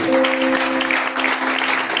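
A church congregation applauding, a short burst of steady clapping with a held keyboard tone underneath, fairly close and loud.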